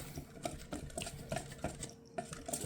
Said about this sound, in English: we're gonna stir it up with our whisk